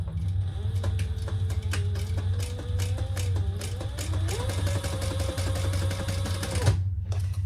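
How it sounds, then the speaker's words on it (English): A sewing machine runs steadily, stitching the seam of a crossbody bag at the pattern's seam allowance, a continuous close mechanical whir with rapid needle ticks that stops abruptly near the end. "we're going to stitch that together at the seam allowance of the pattern"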